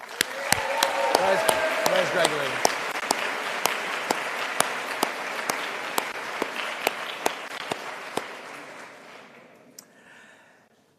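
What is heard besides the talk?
audience applause at graduation ceremony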